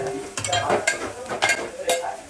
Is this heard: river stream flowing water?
no